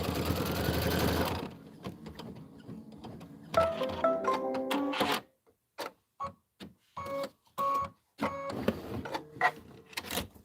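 A sewing machine stitching quilting fabric for a snowman pillow block runs in a steady burst, then stops and restarts in short separated runs of rapid mechanical whirring and clatter.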